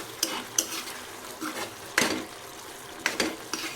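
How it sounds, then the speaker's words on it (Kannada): A spoon stirs masala into palak aloo curry in a pan, producing a series of soft, close scrapes and clinks against the metal at irregular intervals over a faint low sizzle, with no talking. "ಇವಾಗ ಲಾಸ್ಟಿಗೆ ಮಸಾಲೆ ಹಾಕ್ತಿದ್ದೀನಿ. ಅದು ಚೆನ್ನಾಗಿ ತಿರ್ಸ್ಕೋಬೇಕು."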